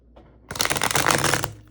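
A deck of stiff, thick tarot cards is shuffled in one close riffle burst of about a second, preceded by a faint handling sound.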